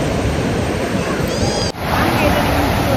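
River water rushes steadily during a rainy outdoor walk, a loud, continuous broadband wash close by with no clear breaks.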